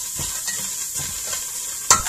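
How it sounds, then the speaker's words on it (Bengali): Chopped onions sizzle and fry in a pot as the base for mutton biryani, with a steady hiss, soft stirring scrapes and a sharper clink of a utensil near the end. "ভিউয়ার্স, আমি বিরিয়ানির জন্য পেঁয়াজ দিয়ে দিচ্ছি"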